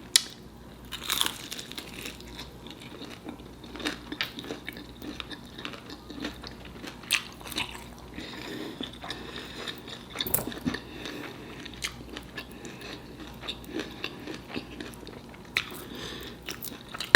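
Close crunchy bites and wet chewing on homemade chicken bacon ranch tacos, irregular and moderately quiet, with scattered mouth noises over several seconds and no talking.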